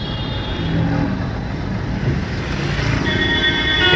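Car engine picking up speed after the clutch is released during a driving lesson, a steady close engine drone that rises slightly toward the end, with no talking.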